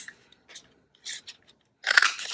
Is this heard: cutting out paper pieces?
yes